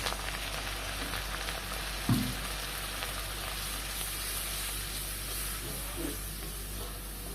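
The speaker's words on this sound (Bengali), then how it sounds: "এবার এই মশলাটাকে আমি তিন চার মিনিট মতন একটু কষিয়ে নেব" Spice masala with ground cumin and a splash of water sautés in a pan for a soybean dish, giving a close, continuous sizzle and crackle with a couple of brief stirring clatters.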